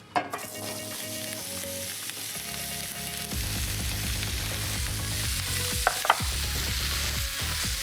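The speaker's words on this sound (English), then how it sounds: "with all of these little pan drippings, you can see these nice little brown bits. We're gonna add in our veggies to pick it all up" Vegetables hit a hot pan coated in chicken drippings and browned bits, setting off a loud, steady sizzle of frying that runs throughout with stirring and scraping, and no one speaks.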